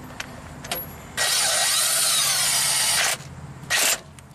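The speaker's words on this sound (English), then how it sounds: "we'll just buzz in this bolt real quick, not too tight" A power tool buzzes a crankshaft pulley bolt into a Lexus engine during a timing belt job, one steady two-second whir followed by a short second burst, loud and close with no talk.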